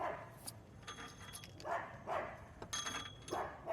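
Several dogs bark near a home during outdoor solar panel wiring, with four or five separate bursts of barking and yips spread across the stretch, moderately distant, with light clinks between them.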